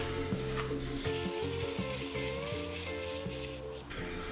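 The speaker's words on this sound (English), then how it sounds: "One thing is the sandpaper is getting clogged up." Sandpaper rubbing over a scoop made of coffee grounds, the paper clogged with grounds, gives a steady close rasping scrape in continuous uneven strokes that runs without pause.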